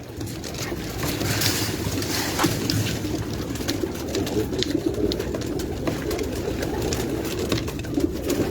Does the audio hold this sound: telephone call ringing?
no